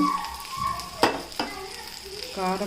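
Bitter gourd frying with chili powder sizzles softly in a pan while a utensil stirs it. Two sharper scrapes stand out over the steady hiss.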